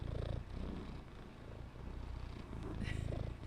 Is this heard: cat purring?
yes